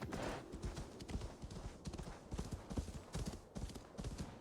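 Hooves clip-clop in a steady walking rhythm as a horse moves along in a video game, the beats clear but moderately quiet over a soft background.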